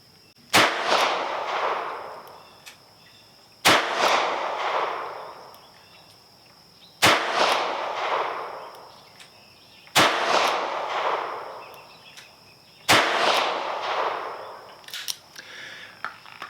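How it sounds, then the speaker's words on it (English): Five sharp, loud revolver shots from a Taurus 605 firing .38 Special rounds in double action at a 7-yard range, spaced about three seconds apart, each with a ringing decay. "Let's do some accuracy with the double action on the 7-yard 38 specials in here."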